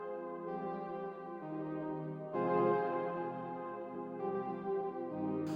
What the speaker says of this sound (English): So a bit more like triumphant feeling, a bit more like a horn sound.